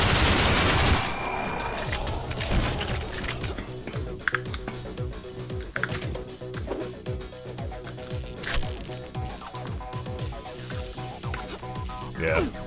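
Rapid, repeated gunfire from the retro shooter Ion Fury, a steady stream of shots under game music, with someone talking over the action.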